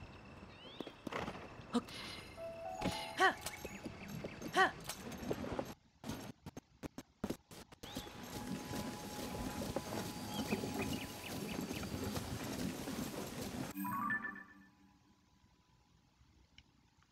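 Horse hooves clip-clop in a Zelda game set in Hyrule, heard as a run of sharp clicks inside busy game sound with background music, until everything drops away near the end.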